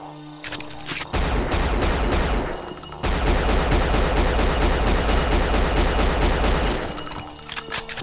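Rapid gunfire in the shooter game Unreal Gold, a loud sustained burst of shots from about one second to seven seconds with a short break midway, fading out at the end.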